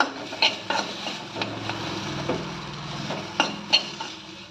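Roasted gram dal and chopped coriander stirred through in a pan, a steady scraping and clinking of a spoon against metal with a few sharper knocks, close and moderately loud, no voices.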